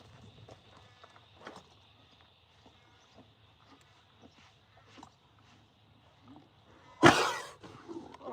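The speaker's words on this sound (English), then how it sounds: "Oh, you're coughing for, Joda?" A horse in a quiet stable gives one sudden, forceful cough near the end, after faint hoof shuffles and small rustling movements.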